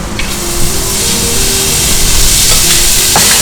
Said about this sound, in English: Now add the soaked rice into our pan.